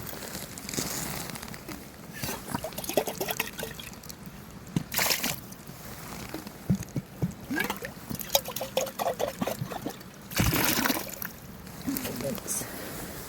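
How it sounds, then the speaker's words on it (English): A small stream trickling down toward a river on a UK hike: continuous light, gurgling water burbling close by, with footsteps or rustling and someone talking intermittently over it. "I found a little river, well, not a river, a stream leading down to a river."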